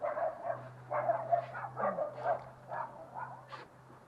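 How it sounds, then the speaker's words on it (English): Several dogs bark repeatedly at a campsite pitch, a string of fairly faint, somewhat distant woofs and yips over a steady low hum, tapering off toward the end. "Lovely barking dogs."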